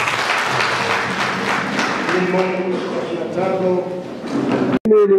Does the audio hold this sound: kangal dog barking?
no